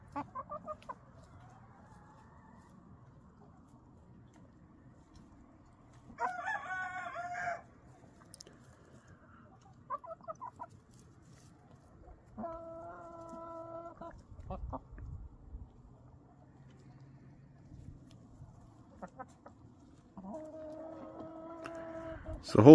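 Backyard chickens cluck and a rooster crows several times, the calls spaced across the stretch and each rising clearly above a quiet yard, with soft movement and rustling between them.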